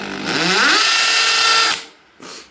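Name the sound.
drilling into a dent with a regular drill bit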